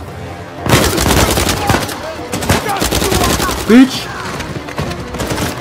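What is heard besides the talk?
gunfire from enemies in the video game Uncharted 4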